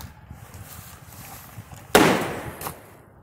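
An Enola Gaye paint grenade bursts with a sharp, loud pop midway through and then hisses away, followed by a smaller pop, after a quiet stretch of faint outdoor background.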